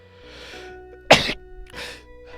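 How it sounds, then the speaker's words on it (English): A single sharp sneeze bursts out up close, preceded by a breathy inhale and followed by softer breathy sounds. "I'm sneezing like a monster."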